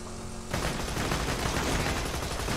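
Rapid gunfire erupts in Borderlands 2 during a clan wars mission, a sudden dense burst of shots that starts abruptly and keeps rattling loudly to the end.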